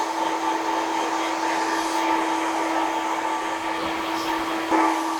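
A hair dryer blows steadily and loudly at close range while drying hair during a textured crop haircut, with a constant whine that holds unbroken for the whole stretch and no talking.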